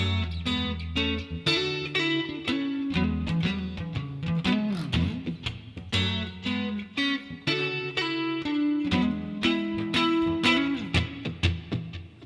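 Electric guitar pre-chorus, mixing percussive slaps and chunks with double stops, played loud and continuous with dense strummed accents and no voice.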